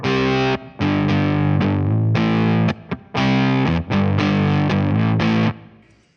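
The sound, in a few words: gated lo-fi guitar drive effect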